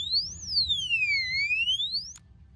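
Motorcycle anti-theft alarm padlock set off by shaking, giving a loud, close electronic siren that sweeps down and back up in pitch, then cuts off abruptly, with faint background noise and no talking.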